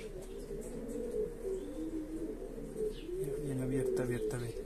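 Pigeons coo in repeated low, rolling phrases close by, the calls growing more frequent toward the end, with faint chirps and light background noise.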